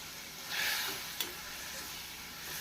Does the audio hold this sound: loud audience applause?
no